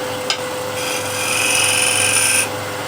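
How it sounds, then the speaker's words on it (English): A hand scraper drags across a wooden workpiece in a steady raspy scrape lasting a couple of seconds, close and fairly quiet, with a faint click before it and no talking. "with the longer point you can scrape a little bit of this side"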